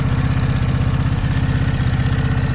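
Close, warmed-up 2005 Kawasaki Vulcan 750 motorcycle engine idling with a steady rhythmic chug, loud and continuous; a brief dip in pitch midway as the idle is lowered before it settles back into the same pulse.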